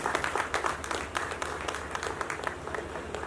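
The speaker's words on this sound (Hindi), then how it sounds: "जोरदार तालियों से इस्तकबाल करें।" An audience at a music video launch claps in a soft, dense patter of applause that sounds somewhat distant and stays low in level for a few seconds.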